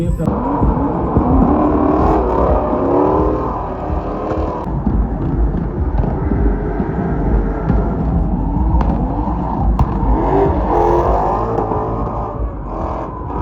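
Cars drive around obstacles at a gymkhana drift event during a JDM car meet, engines revving and rising and falling in pitch as they sweep past, loud and continuous with crowd noise underneath.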